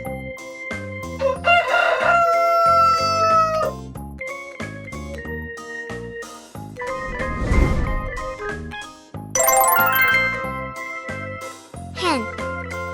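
A rooster crowing set over cheerful children's music, with a loud burst around the middle and bright tonal calls near the end, part of a kids' bird-learning sequence.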